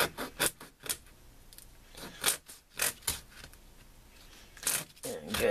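A good knife cuts through a frozen, spiny homegrown vegetable in short, irregular bursts of crunchy scraping and cracking, separated by quiet gaps, heard close by.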